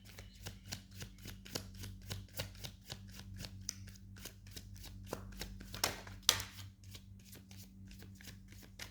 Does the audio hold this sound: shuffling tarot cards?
yes